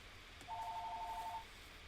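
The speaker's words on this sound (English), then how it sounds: "you have to ignore that phone ringing for a second" A single short electronic phone ring, a steady tonal burst lasting about a second, heard faintly in the background of a quiet room during a podcast recording.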